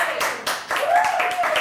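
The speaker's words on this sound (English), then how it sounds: "Big round of applause for you." Clapping from a small audience at a pub political event, a few loose, rhythmic claps under a held voice or tone, brief and fairly close.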